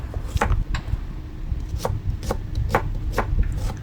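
A knife slices an onion on a cutting board, producing sharp, irregular chops of about a dozen cuts over a low background hum, close up with no talking.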